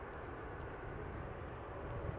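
Airbus A220-300 jet engines idling or spooling at Toronto Pearson Airport, a brief, steady low rumble heard from a distance with no voices.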